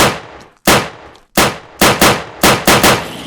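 A gun firing Inferno ammo at a zombie in the Minecraft Crafting Dead mod: seven loud, sharp shots, each with a decaying tail, spaced irregularly and quickening toward the end.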